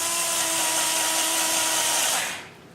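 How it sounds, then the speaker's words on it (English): A power drill bores straight through a wooden rail, a steady loud high whine running unbroken and close, then cutting off abruptly near the end. "what we need to do now is drill straight through"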